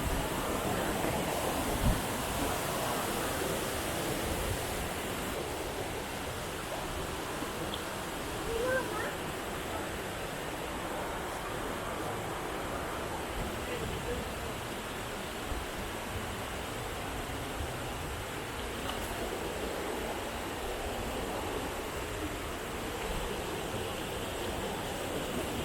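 Tad Wimanthip waterfall in Bueng Kan, Thailand, roaring as a steady, dense wash of rushing water close by, broadband and unbroken throughout with faint murmurs of voices underneath.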